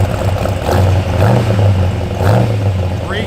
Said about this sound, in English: Give a little rev, Mike.